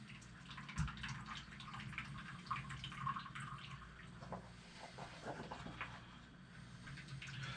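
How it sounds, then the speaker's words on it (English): Water pouring out of a squeezed portable water filter, a soft, irregular trickle and dribble into a container, faint and close with small splashes. "and it pours water out."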